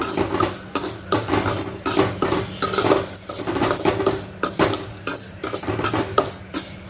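Semolina roasting in ghee and oil in a pan over medium flame for rava kesari, stirred steadily with a utensil scraping and clinking against the pan in a continuous close rhythm.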